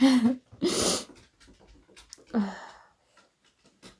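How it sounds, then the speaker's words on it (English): A dog snorts and breathes heavily nearby in a few rough bursts, with quiet pauses between them. "Sorry if you can hear that in the background, that's my dog."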